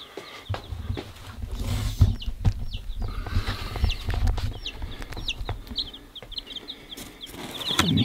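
Day-old chicks on a homestead peeping in short, high chirps that repeat in scattered bursts, mixed with handling thumps and rustling nearby.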